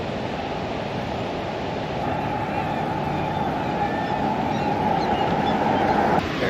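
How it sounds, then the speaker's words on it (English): Waterfall across a street in Valdez, Alaska, a steady broad rushing roar of falling water, constant and moderately loud, with no talking over it. "there is a nice waterfall right across the street"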